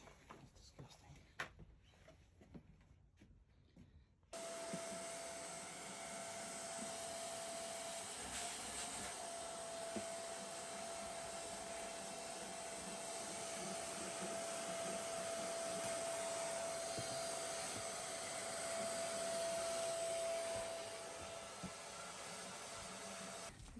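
A vacuum cleaner sucks up dust from the floor of a caravan under restoration after its carpet has been pulled out. After a few quieter seconds it starts abruptly and runs as a loud, steady whining roar, close by, until the end.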